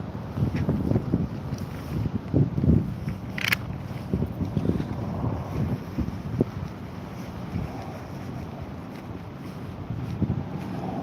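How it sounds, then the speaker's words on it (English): A helicopter flies overhead above the sea at a seaside promenade, a low heavy rumble that swells and lingers under gusting wind buffeting the microphone. "Well, that's a helicopter."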